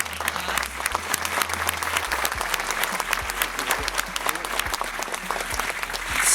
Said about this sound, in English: I want us all to give them one more round of applause